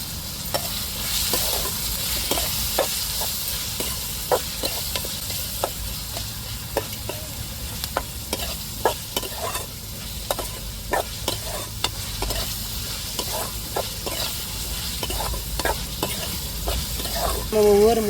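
Steady sizzling of duck eggs frying in hot oil, with frequent sharp pops and crackles spread irregularly throughout; no voices.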